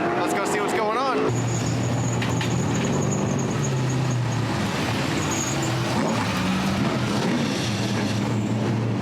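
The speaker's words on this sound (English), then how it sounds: "The Sportsman cars are out qualifying" Stock cars in the Sportsman class run qualifying laps at a racetrack, engines droning steadily at a distance with a brief closer roar near the start, while people talk over the track noise.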